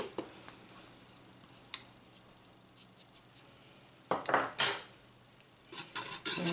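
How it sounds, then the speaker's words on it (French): Butter and cornstarch being stirred in a Cookeo pot, sparse scraping and clinking of a utensil against the pot, quiet at first and then louder, denser strokes toward the end, with no talking. "On mélange."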